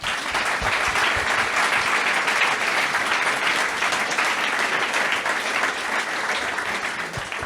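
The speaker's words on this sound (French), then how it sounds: "J'aimerais qu'on applaudisse toutes ces personnes bien fort." Audience at a health day conference applauding organizers and speakers, a loud sustained round of clapping lasting several seconds, dense and even throughout.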